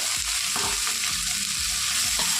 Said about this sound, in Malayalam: ഇനി അതിനെ ഇതേപോലെ നല്ലതുപോലെ ഒന്ന് വഴറ്റിയെടുക്കാം